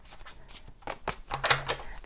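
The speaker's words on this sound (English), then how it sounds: "Terrible shuffle" Tarot cards being shuffled by hand, a quick run of soft riffling flutters and slaps, close and fairly quiet, lasting about two seconds.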